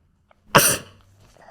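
A single sharp sneeze bursts out close and loud, then trails off quickly into near silence during an indoor interview.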